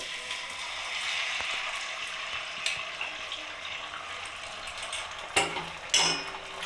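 Egg omelette batter fries in hot oil in a kadai, a constant close sizzle with a few sharp spatula clinks and scrapes toward the end, no voices.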